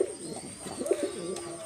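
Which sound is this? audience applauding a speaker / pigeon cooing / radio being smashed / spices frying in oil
pigeon cooing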